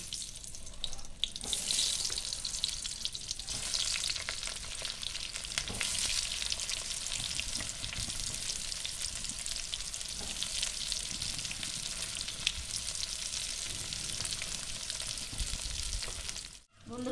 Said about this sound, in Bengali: একই রকমভাবে পরের পটলগুলো আমি ভেজে নেব